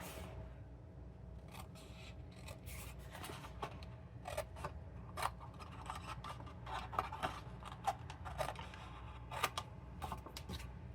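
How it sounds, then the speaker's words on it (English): Scissors cutting a rectangle out of cardstock for a Stampin' Up! paper box, heard as a series of quiet, irregular snips and scrapes close by over a faint background hum. "we're going to cut this whole rectangle out."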